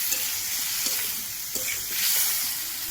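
A spiced paste of cumin and green chilli fries in a pan over a wood or coal stove, giving a steady hiss and sizzle with a few soft scrapes as it is stirred, close and continuous.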